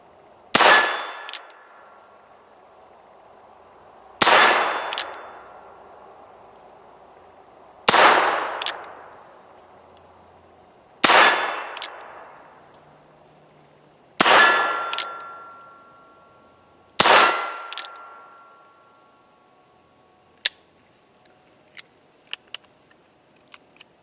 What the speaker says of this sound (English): let's fire these 6 and see what we get